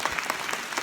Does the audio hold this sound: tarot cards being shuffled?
no